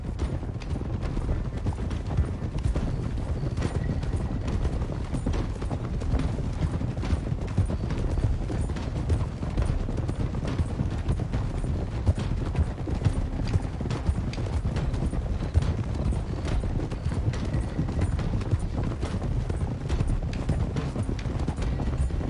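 Horses' hooves clip-clop steadily and continuously in Red Dead Redemption 2, a dense, even rhythm of hoofbeats at moderate loudness with no talk over it.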